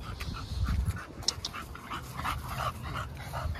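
Several bully-breed dogs pant and whimper in a backyard, short breathy pants and faint whines close by over low rustling and movement.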